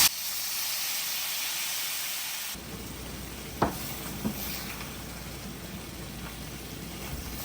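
Beef broth hits a hot pan while deglazing for shepherd's pie, giving a loud, bright sizzle that drops into a steady lower bubbling hiss, with a few soft knocks from stirring.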